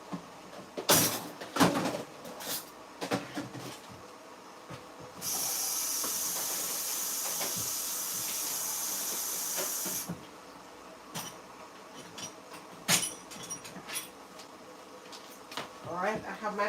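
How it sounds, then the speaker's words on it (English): A pot of water boiling on a stove while Jamaican ackee and saltfish is prepared, giving a steady hiss that swells loud and even for several seconds, amid kitchen clatter and knocks. "over here I have my water boiling up"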